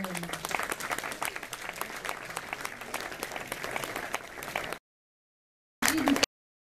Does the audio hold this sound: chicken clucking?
no